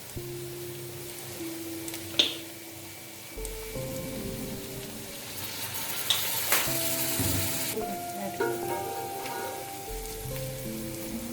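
Vegetables frying in a pan with soy sauce, a steady close sizzle with stirring clatter and a sharp burst of hissing as liquid hits the hot pan, background music faintly underneath.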